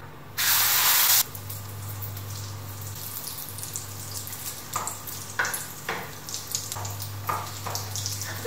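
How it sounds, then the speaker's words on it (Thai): Seasoned egg frying in hot oil for a Thai chaom omelette gives a steady close sizzle and hiss, with a loud burst of spitting as the egg hits the pan, then occasional crackles and pops over the continuous frying. "เดี๋ยวเอาไปทอดกันเลย"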